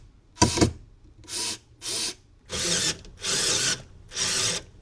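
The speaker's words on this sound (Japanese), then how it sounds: "では下のベニヤ板もビスでそのまま打っておきます。" Screws are driven into a plywood board inside a small kei camper van conversion, with six short, loud, harsh buzzing bursts from a power driver separated by brief pauses.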